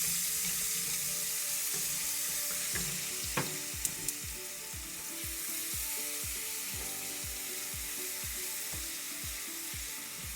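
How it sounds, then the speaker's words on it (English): Haitian spice paste frying in a pan, a steady low sizzle with a quick run of small ticking stir and spatter clicks and a couple of sharper taps, quiet and close, no voices. "our first step is to fry the Haitian spice."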